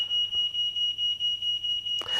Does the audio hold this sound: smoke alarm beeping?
yes